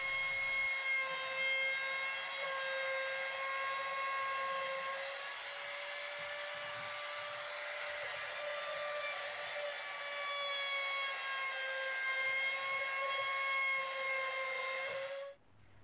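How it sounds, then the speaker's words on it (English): Trim router rounding over the edges of a wooden key holder back, a steady high whine held at an even pitch for about fifteen seconds before cutting off abruptly at the end. "I then rounded over the edges using my trim router"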